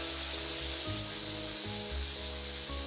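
Ginger, chilli, garlic and tomato paste frying with dry spices for an egg curry, a loud continuous sizzle with a steady low hum underneath and soft stirring, heard close with no speech.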